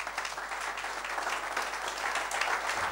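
A church congregation applauds steadily, a dense patter of many hands clapping at an even level throughout.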